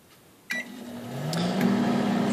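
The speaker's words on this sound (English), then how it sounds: "For 2 cups I typically microwave for approximately 5 minutes." A microwave oven heating cups of water, starting with a sharp click and then settling into a steady electric hum that grows slightly louder as it runs, with a couple of faint ticks.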